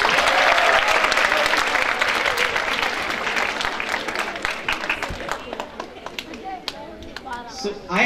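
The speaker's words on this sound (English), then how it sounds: "A round of applause for her." An audience at a school senior idol event applauds warmly, loud sustained clapping from a crowd that gradually softens while a voice begins speaking over the dying applause.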